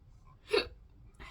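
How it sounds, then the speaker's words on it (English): A single person's hiccup, a short sharp burst near the middle of an otherwise quiet indoor moment, followed by faint rustling. "have hiccups now."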